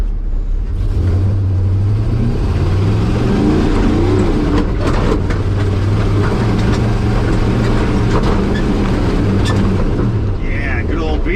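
Rusty old beater pickup truck engine working on a hill climb, a loud close mid-pitched drone that rises in repeated revving surges, with rattles and bumps from the body over the steady roar.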